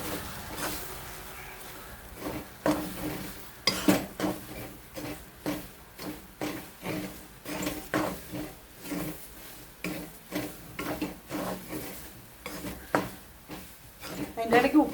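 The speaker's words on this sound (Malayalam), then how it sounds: "ഇനി നന്നായിട്ട് നമുക്ക് ഇളക്കാം." Food with a pinch of asafoetida stirred in a pan, a regular series of scraping, clattering spoon strokes roughly every half second, close and moderately loud.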